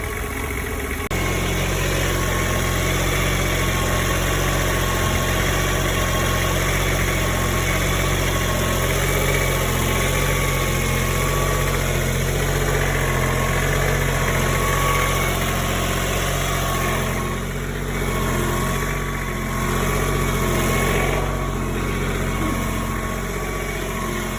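An Onan generator engine idles with a constant low hum and mild vibration after a fan belt replacement, smooth and even throughout, with no squealing.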